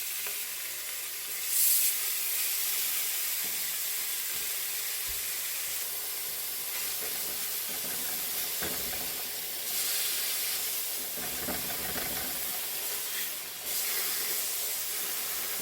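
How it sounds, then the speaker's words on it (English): A small amount of ham fries on a griddle in grease left from mayonnaise, giving a steady, moderately loud sizzling hiss with occasional scraping touches, nearby and without voices. "I'm going to fry up a teeny bit of this ham"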